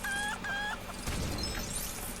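A chicken in the video game Lego Harry Potter gives a couple of short clucking calls up close, then game effects and ambient noise continue beneath.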